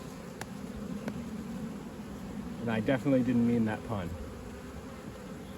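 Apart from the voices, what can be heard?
honey bees buzzing on a hive frame with larvae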